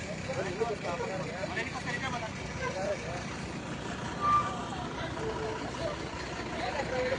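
A bus rolls along a busy road near Hindupur, its engine rumbling steadily among other traffic, with a faint reversing beep and voices talking nearby throughout.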